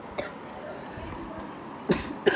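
A person coughs a few times, short sharp bursts near the end over a quiet room background, with a faint earlier cough.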